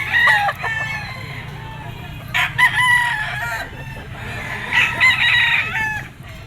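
A Boston-breed gamefowl rooster crows loudly and close several times at a pet market, strained, hoarse calls repeating across the stretch over a low background rumble.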